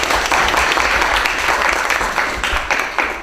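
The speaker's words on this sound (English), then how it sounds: "Yes, applause please." Dense, loud audience applause at a 2014 conference in Bern, steady clapping from many hands sustained throughout with a few sharper claps poking out.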